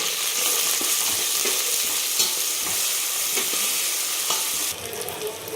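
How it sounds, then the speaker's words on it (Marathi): Ginger, garlic and coriander paste fries in a pan with a loud, steady sizzle and occasional spatula scrapes, close up, easing slightly near the end. "ती पण आपण परतून घेणार आहे"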